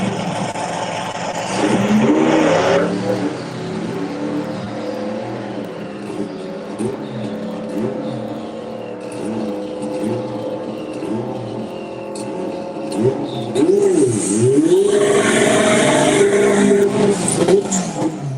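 An Austin and a BMW at a drag racing club event, engines droning and revving loudly at close range with rising and falling pitch as the cars run, with bursts of louder acceleration at the start and near the end.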